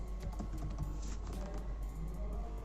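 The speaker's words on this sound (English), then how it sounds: "I'm gonna type stay alert over here." Someone types on a computer keyboard, producing a quick, uneven run of light key clicks over a low steady hum, with no talking.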